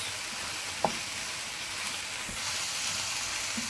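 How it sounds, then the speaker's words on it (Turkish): Steady sizzling of onions and red peppers sautéing in a pan, a continuous bright hiss with a couple of soft clinks, no voices. "bu şekilde soğanlarımızı ölene kadar kavuruyoruz"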